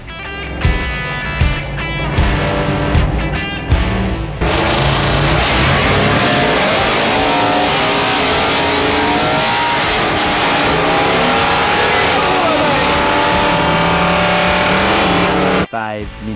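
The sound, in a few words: twin turbo Ford XY Falcon wagon engine revving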